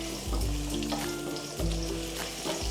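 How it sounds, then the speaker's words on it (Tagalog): Ginger sautéing in a pan as the base for salmon sinigang gives a steady, close sizzle of frying, with a few soft stirring scrapes and bumps. "So, igisa natin ang luya."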